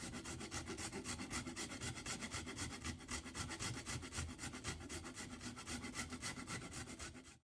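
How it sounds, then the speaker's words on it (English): Nutmeg scrapes against a grater in quick, steady rhythmic strokes, close up but quiet, lasting about seven seconds and then stopping. "Additionally, I will be grating some nutmeg into there."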